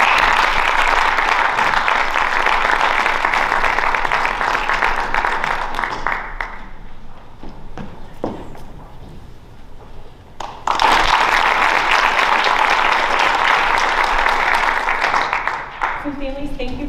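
An audience at a student award ceremony claps in sustained, dense applause that fades into quieter room sound with a few scattered claps, then swells again into a second strong round.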